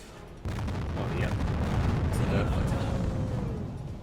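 A burning ship explodes in a U-boat submarine video game, a sudden loud boom followed by a sustained rumbling roar of fire and blasts that swells and slowly fades over several seconds.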